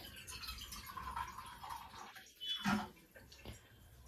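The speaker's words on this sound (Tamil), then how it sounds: "இதுலேக்கு நான் வந்துட்டு கொஞ்சோண்டு தண்ணி ஆட் பண்ண போறேன்." Water is poured into roasted-free rice flour for Pesaha appam batter, a soft trickling splash with a brief louder pour near the middle, faint and close in a quiet kitchen.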